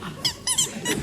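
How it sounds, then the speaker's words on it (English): A chair squeaks as someone sits down on it: three sharp, high-pitched creaks in quick succession, close and fairly loud, with no talking. "You've got some very squeaky chairs."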